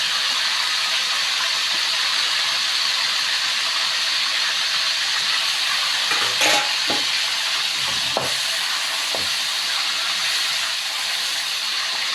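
Pork soft bones (cartilage) deep-frying in oil give a steady, dense sizzle and hiss that never lets up, with a few sharp pops and stirring clinks near the end; no one speaks.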